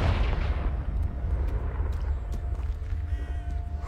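A blast from the Confringo spell in a video game opens with a loud burst, then a deep rumble fades across several seconds.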